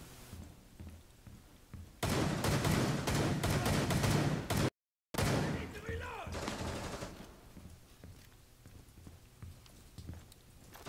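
Shotgun blasts and heavy gunfire ring out in Rainbow Six Siege during a terrorist hunt match, loud and dense for a few seconds, then a brief cut to silence and a quieter stretch of game noise.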